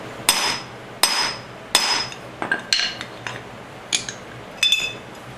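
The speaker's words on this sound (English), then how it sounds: "So let's get this bearing put into the drive flange next." Metal hammer blows drive a rear wheel bearing into the drive flange of a 1973 Honda CB750 cafe racer, about eight sharp ringing strikes in uneven rhythm, close and loud with no talk.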